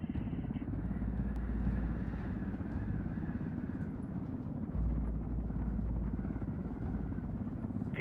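A helicopter flies in the video game Ghost Recon Wildlands, giving a constant low, pulsing rotor rumble that stays loud and even throughout, with no other sounds standing out.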